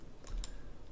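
A couple of quick key presses on a computer keyboard during 3D modeling work in Maya, two soft close clicks over a quiet room hum.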